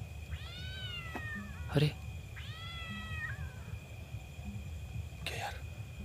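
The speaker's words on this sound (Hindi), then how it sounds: "किसी बिल्ली की आवाज आ रही है" Cat meowing in a forest, two clear drawn-out meows standing out from a low background hum, with someone speaking and brief sharp noises in between.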